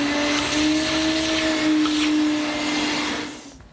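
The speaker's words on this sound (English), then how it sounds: "it's a good idea to vac that out and then make another pass to make sure all the material has been removed" A shop vacuum runs steadily and close by, drawing sawdust out of a freshly cut mortise in a long wooden upright, with a constant whine that fades out at the very end.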